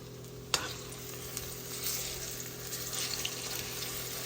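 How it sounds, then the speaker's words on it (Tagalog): Banana cue, the Filipino snack of bananas, sizzles in hot oil over medium heat with a steady, close crackle, marked by one sharp tap near the start and no voices. "I'm cooking banana Q."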